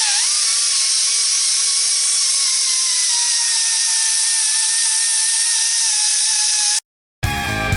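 Small die grinder with an abrasive wheel working metal on a 1968 Mustang rear end, a loud steady high whine held for several seconds before cutting out briefly and starting again.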